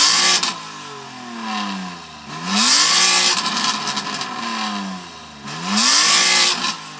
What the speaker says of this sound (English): So I'm going to rev up my M3, which I know is going to sound amazing because of the exhaust on it.